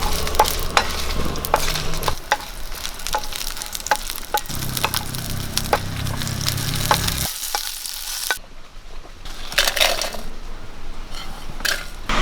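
Five or six dry red chillies and shallots roast in a hot pan for a Kerala-style chammanthi, giving a steady crackling sizzle with scraping stirs and small clinks throughout, with no talking.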